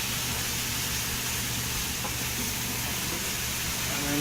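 Carrots and onions sizzle in a pan with a constant, even hiss and faint crackle for the whole stretch, with no talking.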